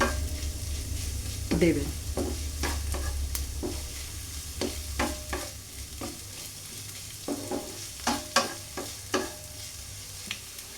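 Chopped onion, garlic, ginger and green chili sizzle softly in a pan for Bengali-style okra chicken keema. A spoon scrapes and stirs in distinct close knocks and scrapes over the steady low frying, and a voice speaks a word at the start.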